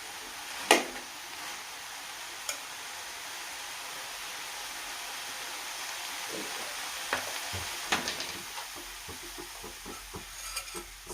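Cauliflower frying in oil gives an even, moderate sizzle throughout, broken by a few sharp clinks and scrapes of a utensil against the pan; no talking.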